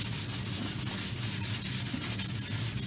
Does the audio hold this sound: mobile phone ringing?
no